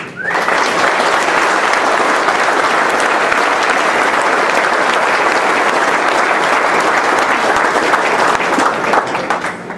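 Sustained audience applause for the KA-RaceIng Formula SAE team at Michigan International Speedway, a dense steady clapping crowd holding strong for nearly ten seconds with a brief spoken word at the start.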